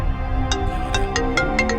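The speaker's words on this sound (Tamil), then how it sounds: "ஏசிபி சார் தான் ஃபோன் பண்றாரு." A phone rings with an electronic melodic ringtone, a series of bright repeating tonal notes, fairly loud and close, over a low background.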